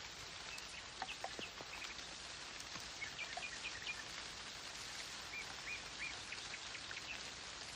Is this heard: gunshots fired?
no